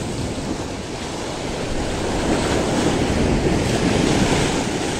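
Sea surf washes steadily onto the shore at a fishing spot, a continuous broadband roar of breaking waves with wind noise buffeting the microphone and no talking.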